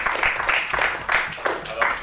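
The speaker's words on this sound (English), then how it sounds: "let's give the panel a round of applause" A small audience claps for a panel, a few hands making loose, uneven bursts of clapping that come and go in short waves.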